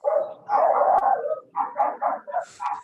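A dog barks and howls close by, one long drawn-out howl followed by a quick run of short yipping barks, with nothing else heard.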